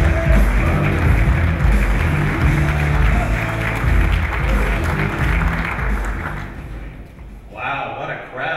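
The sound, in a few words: audience applause welcoming Reggie Fils-Aimé at Nintendo press conference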